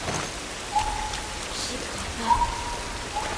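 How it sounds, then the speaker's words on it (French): Rain in the video game The Last of Us, a steady patter of rainfall filling the scene with a few faint chirping tones breaking through, no voices. "Cette pluie ne va pas nous aider."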